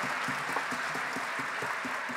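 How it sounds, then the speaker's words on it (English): Steady crowd applause for dancers at a hometown fiddle show anniversary performance, a dense continuous clapping wash with a rhythmic low thumping pulse running underneath. "Let's hear it for them too. We're gonna clap a lot."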